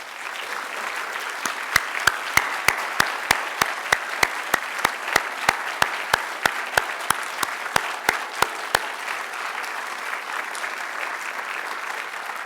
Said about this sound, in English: I'd like our staff to please stand up so we can give you a round of applause